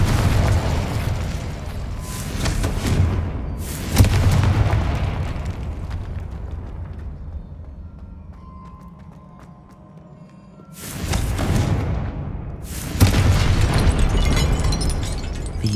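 Repeated heavy explosions from the Confringo fire spell in Hogwarts Legacy, several loud booming blasts in bursts with a quieter rumbling lull between them, no talk.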